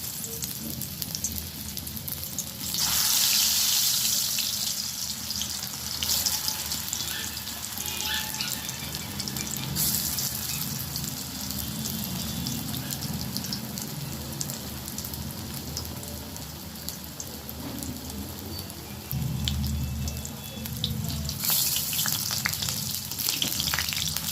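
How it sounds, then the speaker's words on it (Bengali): Spinach fritters deep-frying in oil, a steady close sizzle and hiss with a few louder bursts of bubbling, no talk. "আমি এবার বড়াগুলো ভেজে নেব।"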